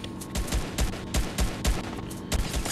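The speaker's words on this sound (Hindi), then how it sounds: "2 शॉट, 3 शॉट, इजी किल।" Gunfire in the Fortnite video game: a rapid series of sharp, punchy shots in uneven bursts, loud and close with no talk over them.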